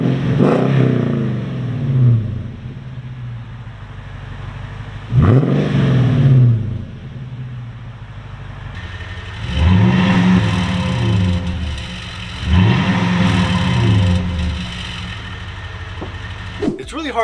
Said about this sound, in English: Let's go ahead and rev the engine.